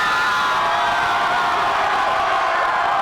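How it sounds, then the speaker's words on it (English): A college basketball crowd roaring during an NCAA tournament game in Kansas City, a loud, continuous wash of cheering with no break. "just listen to this crowd"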